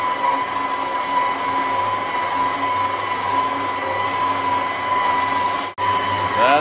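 A stand mixer runs steadily, kneading bread dough with yeast and sugar, a constant loud motor whir with a brief dip near the end.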